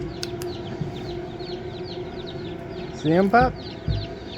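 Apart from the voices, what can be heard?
chicks and a young rooster clucking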